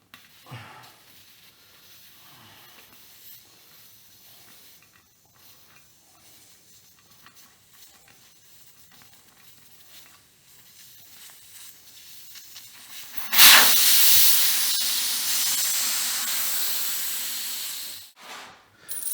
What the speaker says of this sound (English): Take my Schrader valve remover, or valve core removing tool.